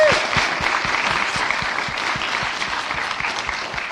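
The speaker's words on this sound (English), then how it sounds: "Can we have another round of applause" A room full of people at a debate event claps steadily, a dense wash of applause with a few louder claps close by, continuing throughout.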